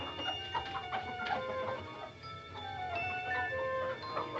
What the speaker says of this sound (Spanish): Incluso la música y los sonidos de gallina provocan una sensación de incomodidad al espectador.